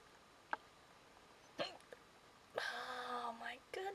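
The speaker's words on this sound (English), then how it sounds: "Hiccups are really unpleasant, and I've had hiccups at least 3 separate times today" A person hiccups a few times, with short sharp catches spaced apart in a quiet room, followed by a person talking.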